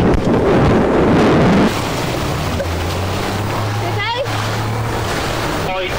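An RNLI lifeboat from Dart motors at sea toward a river mouth on a fire call, its steady low engine drone running under heavy wind buffeting and water noise, with brief chirpy sounds near the end.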